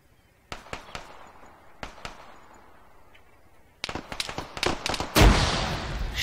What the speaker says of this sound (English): he fucking lobbed the rifle grenade over